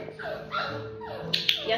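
Eight-week-old Teddy Bear puppies whimper, yip and give short barks during a group training session, close by and fairly loud, over a trainer's steady talk.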